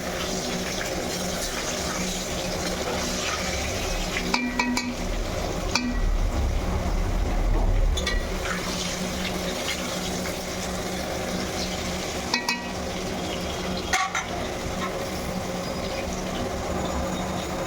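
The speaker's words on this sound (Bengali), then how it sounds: "আলু ভাজা হয়ে গেছে লাল লাল করে, নামিয়ে নেব।" Potato pieces frying in oil in a wok crackle and sizzle continuously at close range, with occasional stirring clatter and no voices.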